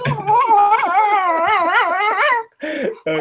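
A dog named Jinx howls loudly and close, a long wavering cry that rises and falls, then breaks into two short yelping bursts.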